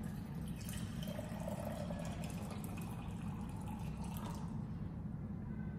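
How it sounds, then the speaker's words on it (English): Hot water is poured to heat a 72.5-gram copper cube, a steady, continuous liquid rush with a low, full body and faint drips, with no voices. "Now, to heat that up, I'm going to use hot water."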